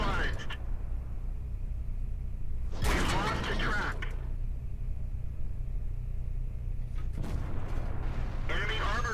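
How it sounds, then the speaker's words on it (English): Two heavy booms of tank cannon fire from the World of Tanks video game, T110E4 battle, each punching through a low, constant engine rumble, a few seconds apart. "Getting shot at by 3 different tanks."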